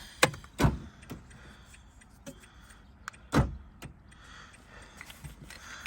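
Central door locks on a Renault Clio actuating, a few sharp mechanical clunks and clicks spaced over several seconds, close by with quiet gaps between.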